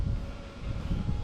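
Low, steady wind rumble at a campground at AJ Jolly Park buffets the microphone in a brief, continuous whoosh.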